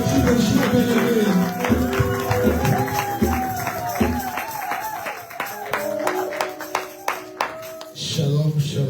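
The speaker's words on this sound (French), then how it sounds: "que nous l'encourageons encore par les acclamations et les cris de joie" A church congregation at a worship service claps and cheers. A loud crowd of applause and shouts gives way to a thinner stretch of scattered distinct claps, then the crowd swells again toward the end.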